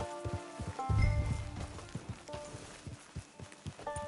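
Horse hooves clip-clop at a walk on open ground in the game Red Dead Redemption 2, an uneven run of close, light thuds with brief soft rustling, no talk.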